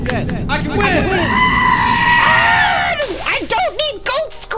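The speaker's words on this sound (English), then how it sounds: "I don't need goat screams, flippin' heck, Boopsy" Goat screams in a game stream, a loud wavering bleat-like scream that rises and holds before breaking into shorter warbling cries, near and prominent over background noise.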